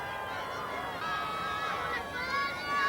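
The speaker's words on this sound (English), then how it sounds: "Listen to this crowd." A 1989 jai alai match crowd, Palermo Espadaña against Chapa, roars and cheers in a steady, loud wash of noise with a commentator's voice over it.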